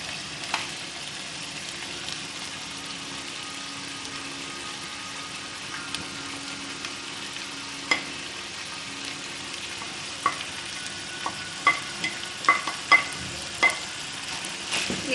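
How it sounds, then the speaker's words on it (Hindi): Onions sizzle and fry steadily in a pan for keema, a soft continuous crackle with occasional sharper pops and clinks toward the end. "अब मैं इसमें ये प्याज ऐड करूँगी।"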